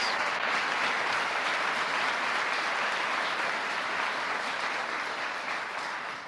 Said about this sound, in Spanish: espero que todos le demos un gran aplauso